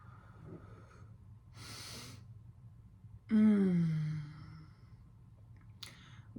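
Slow, deep breaths drawn in and let out near the microphone: a sharp inhale, then a long audible exhale with a slight vocal sigh, and another short breath near the end.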